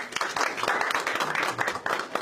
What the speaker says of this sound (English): So clap for him.